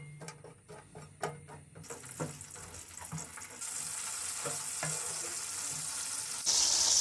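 Raisins, almonds and cashews roast lightly in hot ghee, giving a soft sizzle with a few utensil taps early on, then a steadier, louder frying hiss that rises near the end.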